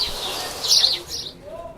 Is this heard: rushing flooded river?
no